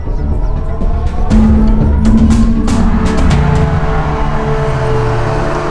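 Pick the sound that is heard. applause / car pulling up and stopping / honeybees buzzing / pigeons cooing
car pulling up and stopping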